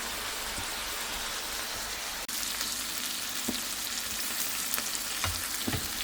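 Chopped onions sizzle and fry steadily in a pan while making Georgian kuchmachi, a constant close crackle with occasional stirring clinks and pops, no talking.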